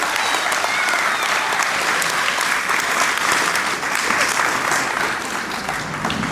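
Audience applause at a school graduation ceremony, a steady, even clapping from a large crowd that continues for several seconds and fades slightly at the end.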